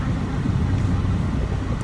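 A car's interior hum while driving, a steady low engine and road rumble filling the cabin, constant and moderately loud with no voices over it.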